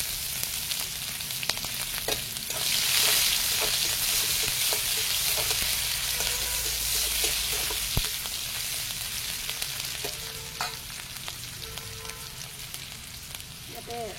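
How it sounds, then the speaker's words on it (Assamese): Onions frying in a pan of hot oil with dried red chilies and bay leaves, a steady close sizzle throughout with occasional stirring clicks and pops, no talking. "লগতে এয়া পিঁয়াজ দি লৈছোঁ।"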